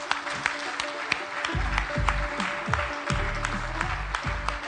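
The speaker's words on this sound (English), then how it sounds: "Ladies and gentlemen, a round of applause for Mr." Audience applause for Mr. Ki Hak Sung at an investment conference in Bangladesh: scattered, crisp hand claps that thicken into a fuller round. Low thumps run underneath the clapping.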